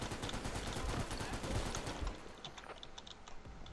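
Gunfire in the video game Military Conflict: Vietnam: a dense, rapid automatic burst for about two seconds, then lighter, scattered shots that sound more distant.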